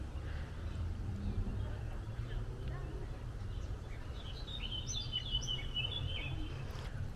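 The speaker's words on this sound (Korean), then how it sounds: "새소리까지 아름답네요." Faint chirping birdsong in the distance over a steady low outdoor rumble near Wart castle in Neftenbach, Switzerland, a few high calls clustering toward the end.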